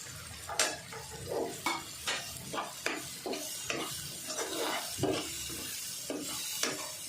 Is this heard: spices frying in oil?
yes